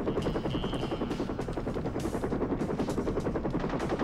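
Continuous rapid automatic gunfire rattles in the video game Tomorrow Never Dies, a dense, steady burst of shots that fills the whole stretch with no pauses.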